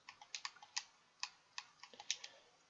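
Short run of keystrokes on a computer keyboard as a name is typed, a quick uneven cluster of crisp, close clicks with small gaps, alone and fairly quiet.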